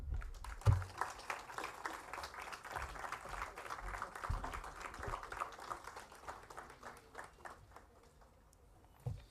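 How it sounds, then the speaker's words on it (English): A conference audience at an AI event at IIT Bombay applauding, a soft, fairly distant round of clapping that fades toward the end, with faint voices mixed in. "Round of applause."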